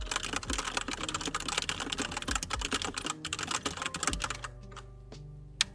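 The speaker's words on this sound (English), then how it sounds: "So this is the old keyboard." Rapid clattery typing on an old computer keyboard, dense overlapping keystrokes in quick bursts that thin to a few isolated clicks at the end, close and clear with no talking.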